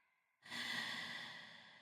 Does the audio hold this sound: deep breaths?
yes